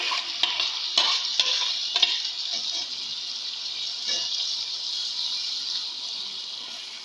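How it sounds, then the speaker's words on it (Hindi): Sliced onions dropped into a cup of hot oil for a Shinwari-style khara masala qeema, a strong continuous hiss of frying with a few stirring knocks early on, close and steady. "ऑयल गरम हो रहा है, हमारा ऑयल गरम हो चुका है। अब हम इसमें प्याज डालेंगे।"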